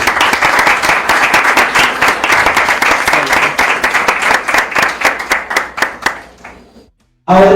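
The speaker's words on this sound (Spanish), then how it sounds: "Un aplauso" An audience at a youth journalism talk applauds loudly, with dense clapping that thins out over several seconds into scattered claps before fading to silence.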